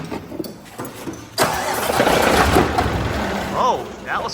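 A Scania truck's diesel engine, fitted with an upgraded turbo and injectors, cranks briefly and then catches abruptly, settling into a loud, rough, steady idle close by.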